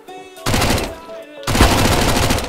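Two sharp bursts of rapid automatic gunfire from the video game CS:GO. Each burst is loud and dense with shots, separated by a brief quieter gap.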